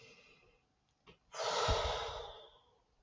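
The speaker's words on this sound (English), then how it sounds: "Let's just take a deep breath" A single slow, deep breath, a steady airy rush that swells and fades over about a second, faint and close, in an otherwise quiet space.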